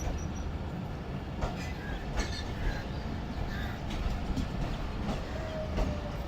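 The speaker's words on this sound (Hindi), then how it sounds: "तो फाइनली तकरीबन 10 मिनट होल्ड करने के बाद ट्रेन हमारी निकल रही है" The Rehman Baba Express pulls out of Dhigroad Junction in economy class, its rail cars rumbling steadily with occasional wheel squeals and clanks, while crows caw faintly in the background.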